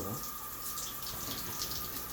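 Water from a shower drains away in a small studio apartment bathroom, a steady broadband rush and gurgle heard up close with no talking over it.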